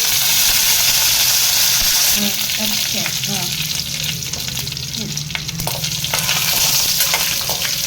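Curry leaves hit hot oil in a pan and sizzle loudly with a steady, crackling fry that stays up close throughout, with stirring clinks and faint talk underneath.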